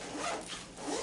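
A zipper on a bag rasps open in one short, close scratchy pull, with no one talking.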